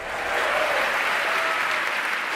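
A live audience at a science talk applauds, dense steady clapping from many hands that holds at an even, loud level throughout.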